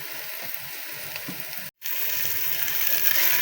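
Onion and ginger frying in a pan, a steady close sizzle with a brief dropout partway through before the crackle returns louder.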